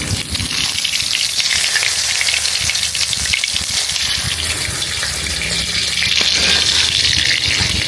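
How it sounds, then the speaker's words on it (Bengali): Fish fries in a hot pan of oil, sizzling loudly and continuously with a dense, crackling hiss that holds steady throughout, with no talking. "আমি হচ্ছে মাছগুলো তুলে ফেলতেছি, মাছ বেশি ভাজাই হয়ে গেছে"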